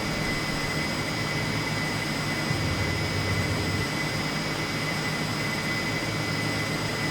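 A McDonnell F2H-2 Banshee jet in Flight Simulator 2020 roars steadily just after takeoff, a dense, even engine wash with a high whine that holds at a constant level throughout, with no talk.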